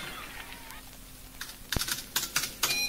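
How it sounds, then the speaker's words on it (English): Keys clack on a computer keyboard in an uneven burst of crisp taps that grows busier toward the end, close up and without talk. "Back at HQ, Egon began tapping keys on his computer."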